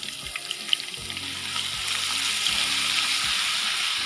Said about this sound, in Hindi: चंद सेकंड इसे अच्छे से फ्राई करना है।